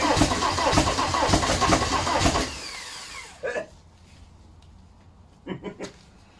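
VW TDI diesel engine sitting on a garage floor, destined for a T25 camper, cranking over in a steady rapid rhythm for a few seconds, then stopping, followed by a couple of short bursts and quieter background noise.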